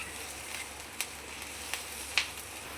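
Peanuts frying in a pan for a grandmother-style peanut chutney, a soft steady sizzle with a few sharp crackling pops spaced through, fairly quiet and close.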